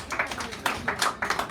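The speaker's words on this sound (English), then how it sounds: "Give yourselves a round of applause." Light applause from a small audience at a poetry hour in a San Francisco cafe, a short patter of scattered claps rising and falling in uneven bursts, fairly close and modest in volume.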